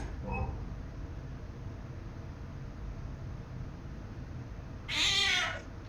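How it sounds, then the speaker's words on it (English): A cat's sudden loud meow jump scare in the horror game Nightmare of Decay bursts out near the end, alone after several seconds of low, droning ambient noise with a faint brief sound at the start. "Cat scare."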